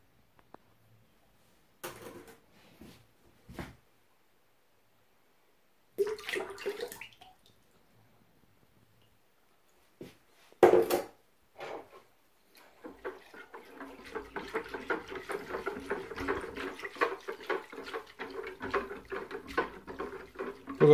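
Liquid sloshing and churning inside a Screwfix backpack sprayer container as it is agitated, preceded by a few scattered knocks and plastic handling sounds, the mixing loud and steady toward the end.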